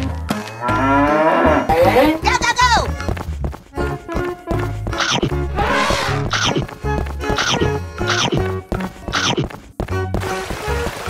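A cartoon cow moos in a long, loud low call, set within an upbeat children's song with a steady beat.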